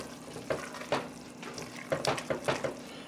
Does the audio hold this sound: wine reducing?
yes